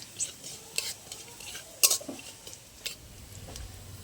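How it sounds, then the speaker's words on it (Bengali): Black cumin seeds stirred in hot oil, a gentle sizzle under sharp scrapes and clinks of a spoon against the pan, several distinct stirring strokes, close. "তেলে দিয়ে দেবো আমি কালো জিরে ভালো করে একটু নেড়ে নেবো"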